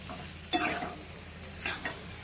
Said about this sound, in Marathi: पुन्हा परतून घ्यायचंय